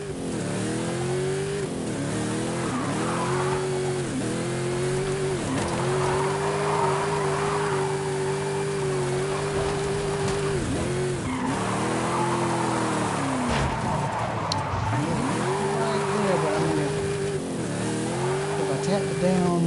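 A car drifting in the video game Forza Horizon 5, engine revving up and down in repeated rising sweeps with tire squeal and skidding through the drift, loud and continuous.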